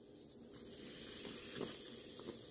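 Hydrogen gas fizzing steadily as water hits magnesium and citric acid, a continuous close hiss with a few louder bubbling bursts toward the end.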